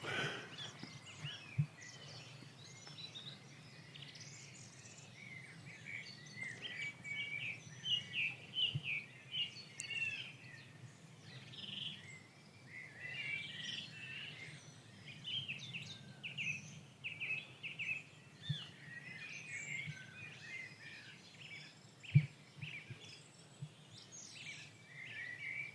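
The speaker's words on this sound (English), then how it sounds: "here's the peace and tranquility of birdsong" Quiet outdoor birdsong, with several birds chirping and trilling at a distance over a soft background hush, plus a few faint clicks and bumps scattered through the recording.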